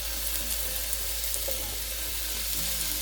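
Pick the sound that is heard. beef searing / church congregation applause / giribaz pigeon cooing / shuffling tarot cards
beef searing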